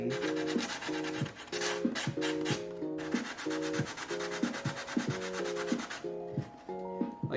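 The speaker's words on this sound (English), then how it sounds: "Even some sanding." Carved terrain cliff being sanded with steady, rhythmic back-and-forth rubbing strokes, close and loud, each pass a gritty scratch repeating for several seconds, no voices.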